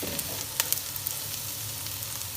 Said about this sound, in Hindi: अब इन दोनों चीज़ों को भी हम 1 मिनट तक इसके अंदर फ्राई करेंगे।